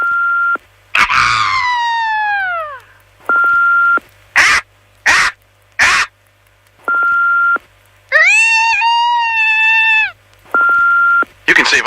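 Several people take turns vocally imitating a bald eagle's call in a radio ad for Marathon, with rising and falling screechy cries separated by steady electronic beeps and brief bursts.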